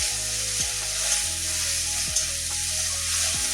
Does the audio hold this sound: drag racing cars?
no